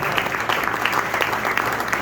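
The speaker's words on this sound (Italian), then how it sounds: "Un applauso" An audience at a conference on launeddas applauds with dense, steady clapping filling the whole stretch.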